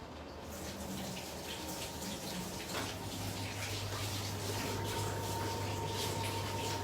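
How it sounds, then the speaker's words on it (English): Running tap water splashes steadily as hands are washed in a home kitchen, a continuous close gush with no talking. "I wash my hand."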